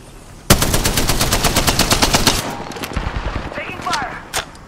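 Rapid automatic weapon fire in the video game Apex Legends, a loud, fast burst of evenly spaced shots lasting about two seconds, then scattered single shots and game effects.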